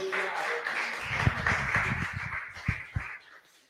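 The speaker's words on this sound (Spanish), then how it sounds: "Denle un aplauso al Señor" A church congregation claps, at first mixed with overlapping voices and then breaking into a brief burst of distinct, uneven claps that taper off quickly.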